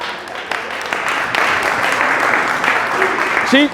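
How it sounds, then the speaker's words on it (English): A seminar audience at a real estate sales talk gives a round of applause, a steady crowd of clapping with a voice briefly heard near the end. "Give her a round of applause."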